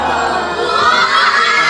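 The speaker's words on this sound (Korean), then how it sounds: "가득찬 환호성이 멈추질 않는데요" Children loudly cheer and shout together as they enter a home decorated for a party, a dense, excited burst of young voices.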